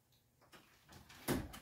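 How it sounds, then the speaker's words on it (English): An indoor door is pushed shut with a single solid thud near the end, preceded by faint rustling and movement, close and fairly quiet overall. "I guess I have to shut this door so I don't have to hear it."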